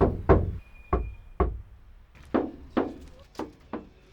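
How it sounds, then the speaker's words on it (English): Knuckles rap on the sound-deadened panels of a Ford Transit Custom van: about nine dull, damped knocks in uneven pairs and singles, close and fairly loud, each dying away quickly. "And now the knock tests."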